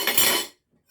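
A chopping bowl is set aside in a kitchen, making a short bright clink of dishes and utensils that rings briefly and then cuts off to near silence.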